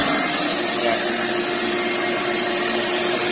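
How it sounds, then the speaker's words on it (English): A shop vac connected to a modified sandblast cabinet runs at a constant, loud whooshing drone, steady and unchanging throughout. "Now I'm gonna turn on the shop vac."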